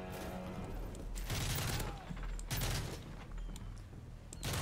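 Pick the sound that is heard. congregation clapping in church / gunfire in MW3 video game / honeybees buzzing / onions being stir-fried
gunfire in MW3 video game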